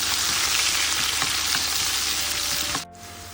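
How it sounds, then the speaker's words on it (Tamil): Chopped onions frying in hot oil for Tamil radish sambar, a steady dense sizzle with occasional stirring clicks that cuts off abruptly near the end, no talking. "2 வெங்காயத்தை சேர்த்துக்கிறோங்க. 2 வெங்காயத்தை நம்ம நறுக்கி வச்சுருக்கோம்."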